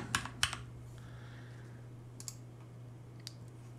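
Clicks from typing on a computer keyboard while entering a smart home device brand name, a quick cluster of close keystrokes at the start followed by a few isolated taps over a steady low electrical hum.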